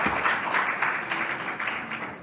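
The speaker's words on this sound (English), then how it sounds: "Please give him a round of applause." Audience applause at a leadership summit after a speaker is introduced, a short burst of dense clapping with uneven swells, steady and fairly close.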